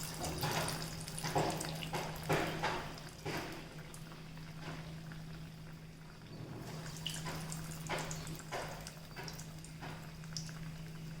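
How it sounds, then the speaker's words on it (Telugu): Small chitti garelu lentil fritters fry in hot oil, a close, steady sizzle that swells in bubbling bursts and never fully settles. "ఇప్పుడు గారెలో వేసుకుందాం నూనె కాగిందేమో చూసి చిట్టి గారెలు"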